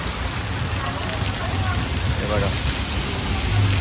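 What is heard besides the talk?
heavy rain falling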